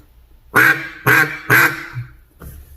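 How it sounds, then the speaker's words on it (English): A Cazadores double reed duck call blown in three loud, evenly spaced quacks, followed by a fainter fourth quack, close to the microphone with no other sound. "Cazadores duck call, and this is a double reed"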